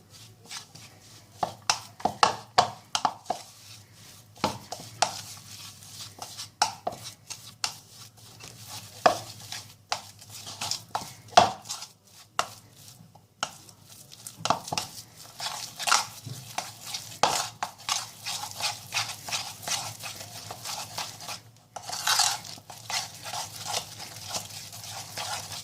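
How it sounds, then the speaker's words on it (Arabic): Ghee and flour mixed together in a bowl as filling for bakery-style Danish pastries, with a spoon beating and scraping in quick, irregular strokes that knock and tap against the bowl throughout, close and fairly loud. "وهنبدأ نخلطهم كده كويس قوي مع بعض لحد ما يمتزجوا تماما مع بعض"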